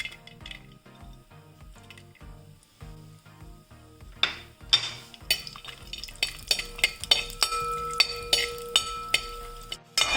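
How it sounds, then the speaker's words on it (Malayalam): Cashew nuts frying in ghee in an uruli, stirred with a spoon: a soft, low sizzle at first, then a rapid run of sharp metallic clinks and scrapes against the pan, close and fairly loud. "അപ്പോൾ ആദ്യം തന്നെ ഞാൻ കാഷ്നട്ട് ഒന്ന് വറുത്തെടുക്കണേ"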